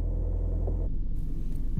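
Manual car in first gear with engine revs rising as it pulls away under clutch control at low speed, a steady low rumbling drone shifting in tone partway through, close and alone without speech.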